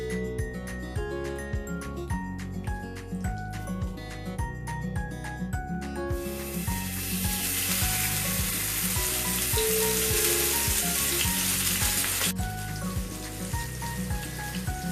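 Vanjaram fish fries on a tawa in hot oil, a loud, dense sizzle that swells sharply for several seconds then settles back, heard up close over a steady rhythmic music bed with no talking.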